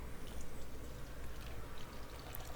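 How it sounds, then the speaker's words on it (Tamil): Water pours steadily into a pot of egg drop curry gravy with a soft, continuous splashing gurgle, close and fairly quiet. "அடுத்ததாக இதில் கிரேவிக்கு தேவையான அளவுக்கு நீங்கள் தண்ணி சேர்த்துக்கலாம்."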